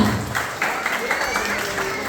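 A congregation at a Christmas church service applauds and cheers in a steady, dense wash of clapping, with voices shouting over it throughout.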